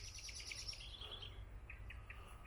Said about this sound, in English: listening to bird song